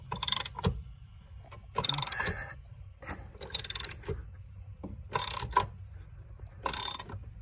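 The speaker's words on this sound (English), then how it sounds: "I'm on it with the ratchet right now" A hand ratchet works on the main lift cylinder bolt of a Mercedes R129 SL500 soft top, giving five short bursts of rapid close clicking separated by pauses with light handling noises.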